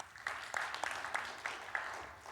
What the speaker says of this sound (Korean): 감사하다고 박수하겠습니다.